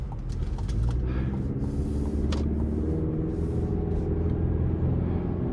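Steady engine and road rumble inside the cab of a 2023 Chevrolet Colorado ZR2 Desert Boss pickup as it pulls onto an interstate, a constant low drone with faint mechanical noise and no talk.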